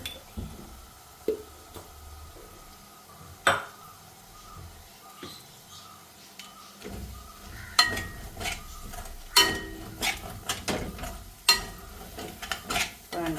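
Chicken gravy masala being stirred in a pan with fennel seeds added, with spoon scrapes and clinks sounding in irregular bursts over a low, steady sizzle.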